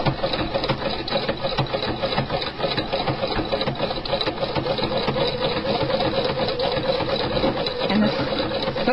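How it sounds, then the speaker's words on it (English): A sewing machine runs continuously and fairly loud, sewing a decorative bridging stitch with a special foot and guide in a steady rapid mechanical hum throughout. "We're all set up and we're ready to sew our bridging stitch."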